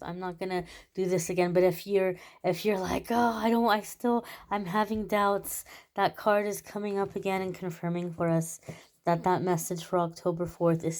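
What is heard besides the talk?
No everyday noises stand out.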